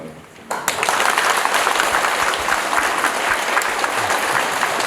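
Applause from a lecture audience at a special talk in Gyeongju, starting abruptly after a brief quiet moment and then continuing as steady, dense clapping filling the hall.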